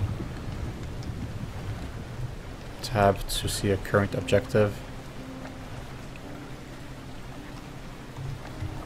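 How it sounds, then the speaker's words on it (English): Steady rain falls in a thunderstorm in the horror game Lex Mortis, a soft continuous hiss and patter under a voice reading an on-screen prompt. "we need to get out of here because there's a thunderstorm coming."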